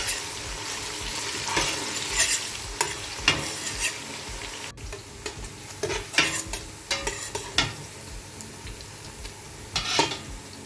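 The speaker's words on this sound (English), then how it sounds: "I'm just going to fry this for, let's say, 40 seconds." Scallions sizzle and crackle in a hot pan while a utensil stirs and scrapes against the metal in irregular bursts.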